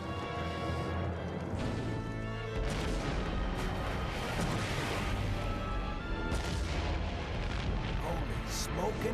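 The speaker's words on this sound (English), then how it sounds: "There's been bigger explosions than that." A loud explosion in an animated Batman episode, dense crashing booms and rumbling blasts filling the mix in bursts, with voices speaking over parts of it.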